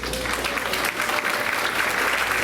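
Audience clapping at a Board of Education meeting for retiree Ms. Clifford, a brief, dense and steady round of applause at close range.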